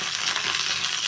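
Crushed garlic and mustard seeds fry in hot oil for a tomato chutney, giving a steady, close, even sizzle that stays constant throughout, with no voices.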